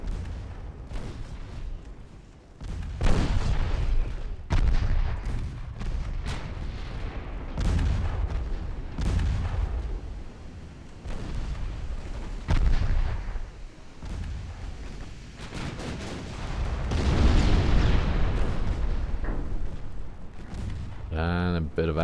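Warship ammunition cooks off in Ultimate Admiral Dreadnoughts as repeated heavy booms and rumbling blasts, loud and spread across the stretch amid ongoing naval gunfire, with someone talking at times.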